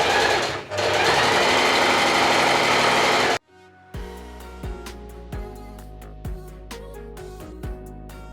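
A domestic sewing machine with its standard foot stitches fabric for a gathered summer top, running in short bursts with rapid needle clatter, close and clear after a few seconds of loud background.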